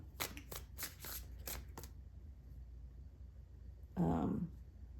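Tarot cards shuffled in quick riffling snaps during the first two seconds, close and crisp, followed by a quiet pause and then a short muffled rustle.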